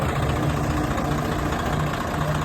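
A parked tractor's engine idles during rain, a close, steady low rumble that holds constant without revving.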